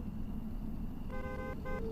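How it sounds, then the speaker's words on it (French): A car drives past on a night road in the horror game Fears to Fathom 2, a steady engine rumble with a brief horn-like harmonic tone toward the end. "C'est une bagnole ça."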